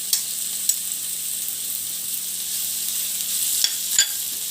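Veg noodles with masala stirred in a hot pan, a steady bright sizzle with a few soft scrapes and clicks of the utensil.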